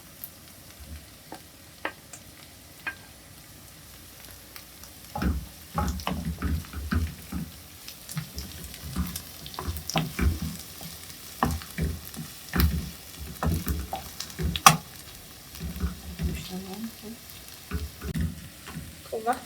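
Ground meat frying with softened golden onions in a pan, with steady low sizzling and scattered scraping and stirring clatter that grows busier partway through, close by.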